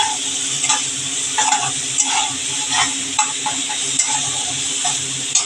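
Ginger paste frying in oil for a pomfret fish curry with potatoes, a steady sizzle broken by regular scraping strokes of a spoon stirring in the pan, no talking.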